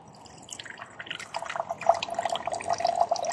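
Water trickles and drips steadily through a Sydney 905 water filter, a light splashing flow into a container that grows a little busier toward the end.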